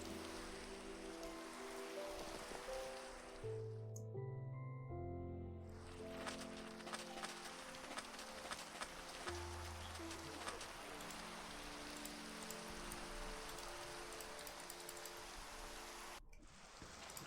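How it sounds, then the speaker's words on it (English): Steady rain falls in the Minecraft Pixelmon video game, a continuous soft patter with faint bird chirps, briefly cutting out twice. "Oh, and of course it's raining."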